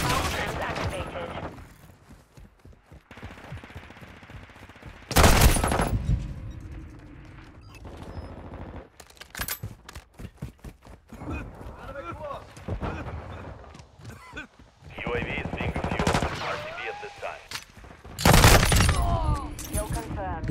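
Bursts of gunfire from the video game Call of Duty: Modern Warfare II, with a loud volley near five seconds, scattered rapid shots in the middle and another heavy burst near the end, mixed with radio-style voice chatter.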